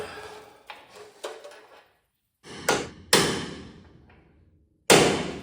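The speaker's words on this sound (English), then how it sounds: "Okay, so now we gotta knock that bolt out." Hammer blows ring out against a 1970 GMC C2500 truck frame while a bolt is knocked out, with several lighter taps followed by three loud, sharp metallic strikes that each die away slowly, close by and without speech.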